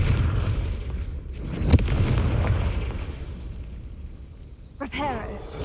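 Explosive spell blasts in Hogwarts Legacy: a sharp burst near the two-second mark and another boom near the end, heard over steady game ambience.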